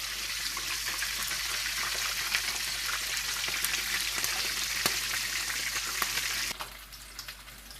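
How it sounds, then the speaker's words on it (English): Fish sizzles steadily in a hot pan of oil during African home cooking, a dense, even crackle that runs loud and close, then drops somewhat quieter near the end. "Halfway through, I'm just gonna flip this fish so we can have the other side also."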